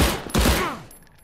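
A single sniper rifle shot in the video game Krunker cracks loudly up close, followed by a fading echoing tail.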